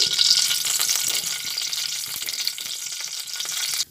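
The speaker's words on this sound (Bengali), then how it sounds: "গোটা গরম মশলা তেজপাতাটা একসঙ্গে ভেজে নিচ্ছি।" Whole garam masala and bay leaves frying in hot oil, a steady close sizzle with a bright hiss and small crackles and stirring scrapes, fairly even throughout.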